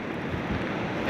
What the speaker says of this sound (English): out by the ocean, where I can hear the waves